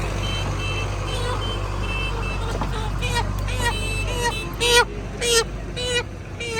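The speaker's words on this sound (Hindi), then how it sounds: "शोर बड़ा ही यहाँ पे गाड़ियों का," Busy roadside traffic with vehicles and trolleys rumbling past, a steady low engine drone under repeated bursts of beeping horns growing louder toward the end, with voices talking over it.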